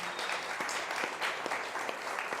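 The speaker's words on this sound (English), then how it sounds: "Round of applause, folks." Crowd applause rings out after a sheep shearing demonstration at a North American hill sheep show, a steady, dense clatter of many hands clapping that holds evenly throughout without letting up.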